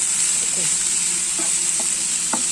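Chopped onion for a beef cutlet fries in a pan with a constant bright hiss of hot oil and a few faint scrapes and clicks of stirring, with no voices.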